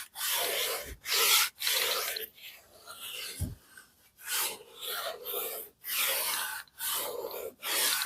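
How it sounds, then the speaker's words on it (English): Leather car seat buffed with premium instant polish, close rhythmic rubbing swipes in repeated bursts with short pauses between strokes. "Now I finished the buffing process here with the premium instant polish"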